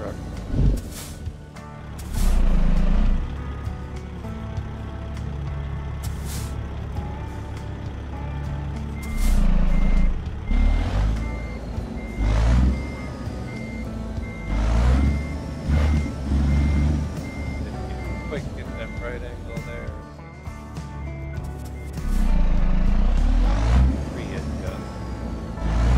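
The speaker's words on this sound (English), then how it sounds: "we do backing up with the long truck" A tow truck backs up in American Truck Simulator, its reversing alarm beeping in a steady repeating rhythm over engine rumble and air-brake hisses, with someone talking at times.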